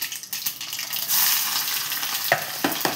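Chopped onion drops into a hot pan of methi bhaji, giving a steady close sizzle and frying hiss with a few stirring scrapes near the end.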